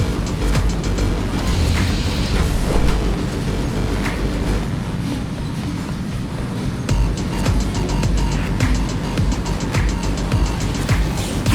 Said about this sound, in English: And one is just arriving at the station to your left.